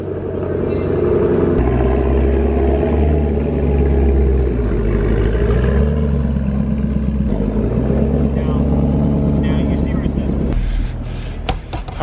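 A used car's engine, not a V8 and distinct from a four-cylinder, runs with a steady low rumble and some revving swells, close and fairly loud, with a person talking over parts of it.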